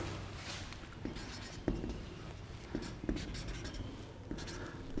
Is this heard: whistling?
no